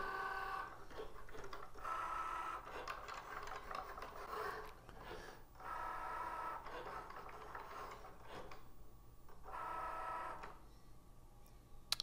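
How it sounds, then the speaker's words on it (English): A Cricut Joy cutting machine cuts a card, giving a faint, steady whirring motor sound in repeated passes that start and stop over a low background hum, with no talking. "now Cricut Joy will cut my card"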